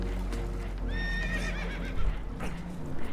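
Spooked horses in the Red Dead Redemption video game whinny in a rising, wavering call over a dense, rumbling backdrop of game noise and clopping hooves.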